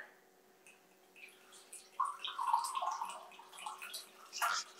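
A cup of water is poured into a pot while making iron gall ink, giving a close, bubbly splashing gurgle that starts suddenly, trickles on unevenly, and ends with a final splash.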